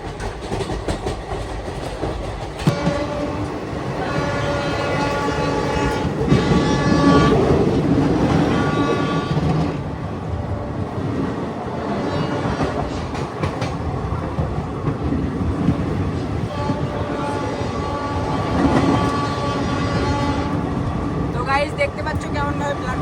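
A fast passenger train rushes through a station platform near Kolkata with steady loud rumble and clatter of cars, a sustained horn tone sounding through much of the pass, with talk over the noise.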